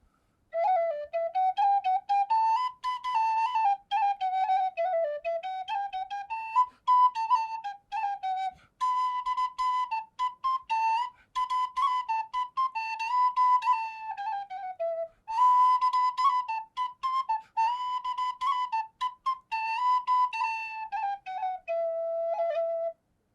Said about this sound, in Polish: Flażolet to tak naprawdę flet sześciotworowy.